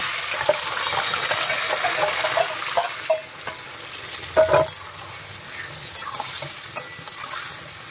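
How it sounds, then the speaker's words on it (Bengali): Chicken pieces hit hot ghee in a pan with a loud splashing sizzle that settles into steady frying, with a few scrapes and knocks of stirring, close by and without talk. "দেখো ওই মাংসটা এবার ঢেলে দিলাম।"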